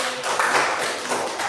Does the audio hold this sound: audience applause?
yes